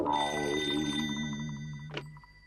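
A telephone bell rings close by, one bright ringing burst with sustained tones decaying, followed by a short click.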